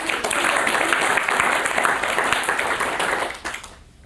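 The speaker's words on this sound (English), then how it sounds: "please applaud now." An audience bursts into loud, full applause with many hands clapping at once, holding strong for several seconds before thinning out and fading near the end.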